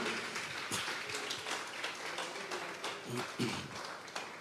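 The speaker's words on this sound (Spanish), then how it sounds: "vamos a regalarle ofrenda de palmas al Dios de la gloria, hermano" Churchgoers clap as an offering of praise to God, a close, busy wash of hand claps with a few louder slaps and a murmur of voices underneath.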